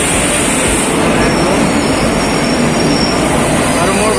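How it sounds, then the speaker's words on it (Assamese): A train rolls into a station with a loud, steady roar of wheels and carriages and a faint high squeal above the rumble, constant throughout. "ফাইনেলি ট্ৰেইন আহি গ'ল"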